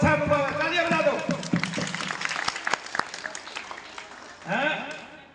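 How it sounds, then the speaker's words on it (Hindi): A seated gathering at a spiritual session claps hands together in a burst of scattered, sharp claps between stretches of someone talking, the clapping thinning out before his voice returns near the end. "बहुत अच्छा अनुभव है, तालियां बजा दो"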